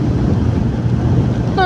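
Wind roaring and buffeting against the microphone during a night motorbike ride on a cold hill road toward Munnar, a dense steady low rush with no gaps.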